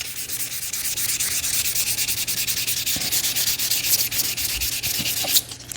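Hand sanding a 2015 Toyota bumper with 600 then 1500 grit sandpaper makes a steady rhythmic scrubbing rasp, close and continuous, with quick back-and-forth strokes throughout and no talking.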